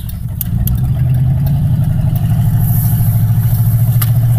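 A 1987 Chevy Caprice V8 with an exhaust leak, running steadily close by, a loud low rumble with a rapid puttering pulse throughout.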